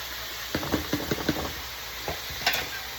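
Onion, garlic and ginger hiss steadily in a hot pan for a beef cutlet filling, with a constant sizzle broken by several sharp scrapes and knocks of a spoon stirring, close and without talk.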